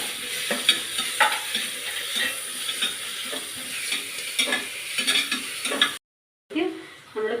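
Crushed ginger, garlic and green chillies sauté in a pan for egg biryani, giving a steady close sizzle broken by repeated scraping stirs, then a brief silence before the frying resumes.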